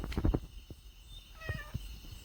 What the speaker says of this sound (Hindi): इसी के साथ आते ही स्वागत है इस बिल्ली के साथ।